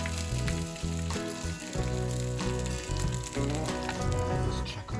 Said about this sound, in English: That sizzle's what we want to hear.